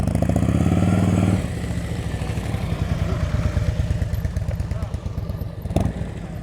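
A motorcycle putters along at low speed through slow-speed practice turns, a loud steady engine throb that shifts to a rougher chugging rhythm partway, close throughout, with a voice talking over it.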